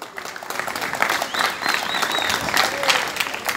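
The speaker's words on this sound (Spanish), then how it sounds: "démosle un aplauso" Crowd applause fills a boxing match arena, steady broadband clapping over a low murmur of voices, with faint whistles rising through it for several seconds.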